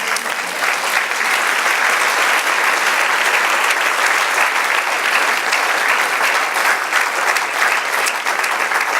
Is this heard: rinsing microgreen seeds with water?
no